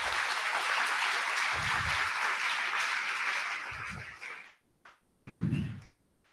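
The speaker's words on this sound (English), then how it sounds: "A round of applause for Mr." Meeting audience applauds a retiring board staff member, a steady wash of claps for about four seconds that tapers off into a few scattered claps and thumps.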